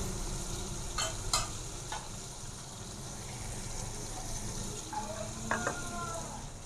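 Aloe vera keema with finely chopped ginger and green chillies sautéing in ghee in a handi, a steady close sizzle broken by a few sharp stirring scrapes near the start and again toward the end.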